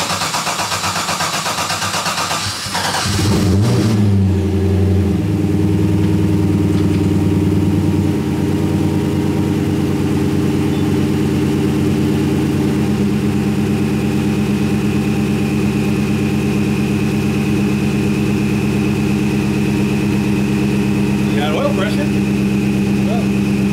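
A 1977 Camaro Z28 V8 cranks and fires on a cold start, then settles into a steady, loud, rumbling idle that runs on for about twenty seconds, with people talking over it.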